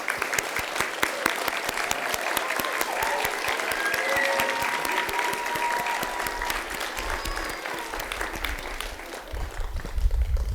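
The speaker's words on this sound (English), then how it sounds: "Let's give all the LPN students a round of applause" Sustained applause from an audience at a fall nurses' pinning ceremony honoring graduating LPN students, steady dense clapping heard alone for about ten seconds with no talking.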